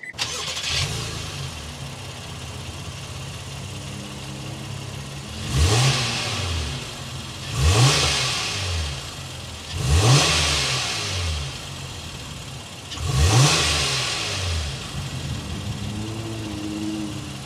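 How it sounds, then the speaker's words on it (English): A 2023 Honda Pilot's 3.5-liter V6 starts and idles, then revs four times in distinct swells through the exhaust, each rising and falling back to a steady idle, heard close. "Let's go inside, start it up so you can hear that exhaust note."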